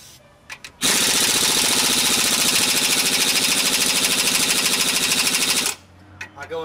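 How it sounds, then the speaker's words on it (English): Long continuous rattling hammer of an impact gun tightening lug nuts on a wheel hub during a 1992–99 Chevrolet Suburban 2500 4WD repair, loud and close, running about five seconds without pause. "Now I use an impact gun."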